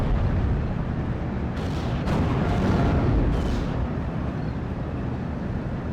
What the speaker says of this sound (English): Looks like they have off-map artillery as well